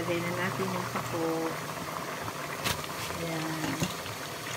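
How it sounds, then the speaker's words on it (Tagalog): Coconut milk simmers at a rolling boil in a cooking pot, a steady bubbling hiss that lasts the whole stretch, with occasional sharper pops and a voice-like murmur in the background. "kumukulo na siya"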